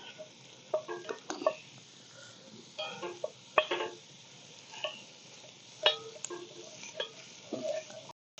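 A metal spoon stirs a sausage breakfast casserole in a cast-iron Dutch oven over an open campfire, producing intermittent scraping clinks and taps in short bursts against a faint crackling background.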